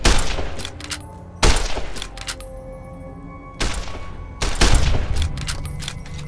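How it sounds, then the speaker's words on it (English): Gunfire in the video game Fallout: New Vegas: loud clusters of rapid shots and cracks crowd together in bursts with brief lulls between, sounding close and harsh. "Oh, I'm getting shot from behind."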